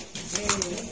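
Pigeons coo softly nearby in a short, low, throaty burst, with faint household noise around them.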